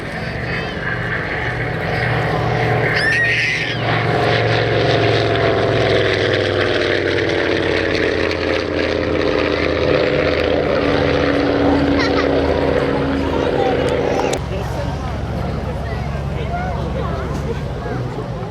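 A loud, steady propeller aircraft engine drones continuously, with a slowly shifting pitch and a brief change in tone near the end.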